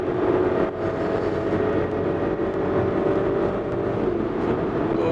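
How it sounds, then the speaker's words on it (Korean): Volvo XC40 B4 AWD accelerating hard after kickdown, its engine hum blending with rising wind noise inside the cabin, a steady moderate drone without talk. "빨라지면서 바람 소리, 엔진 소리 서로 어우러지면서 같이 커지고 있고요"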